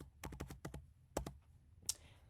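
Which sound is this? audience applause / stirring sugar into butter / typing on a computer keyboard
typing on a computer keyboard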